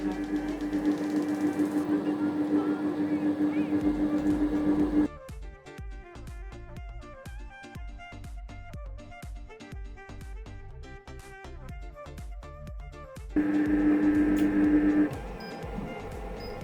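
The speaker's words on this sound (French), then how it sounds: "Et je lance tout en cliquant sur ce bouton. Voilà, et ça commence à pétrir." A Cecotec Mambo multifunction kitchen robot kneads dough, giving a steady motor hum with rapid, regular mechanical clicking pulses, framed by louder, denser whirring before and after.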